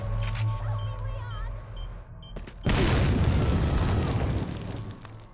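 A single loud mine explosion in a video game: a sudden heavy blast follows quieter clicks and beeps, then a rumbling decay lasts a couple of seconds.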